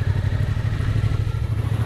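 A motorcycle setting off on its first ride, its engine running loud and close with a steady low throb and rattly clatter throughout.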